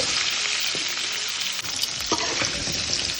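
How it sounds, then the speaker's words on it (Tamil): Mustard seeds, cumin, chana dal and urad dal with asafoetida fry in a pan for foxtail millet semiya upma, giving a steady dense sizzle with scattered pops and crackles throughout. "ஒரு பேன்ல கடுகு, ஜீரகம், கடலைப்பருப்பு, உளுத்தம் பருப்பு, பெருங்காயம் எல்லாம் போட்டுட்டு"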